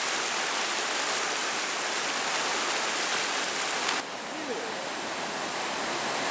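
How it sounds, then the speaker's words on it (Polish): Waterfall on the Nysa Kłodzka river swollen after heavy downpours, a steady, dense roar of rushing water heard close and alone, with a slight drop in level partway through. "Wodospad na Nysie Kłodzkiej widziany z innej perspektywy"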